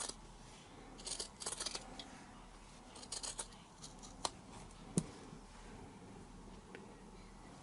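Scissors trim a fabric seam in a quiet room, giving a few soft, close snips and clicks in short bursts, with a sharper tap partway through.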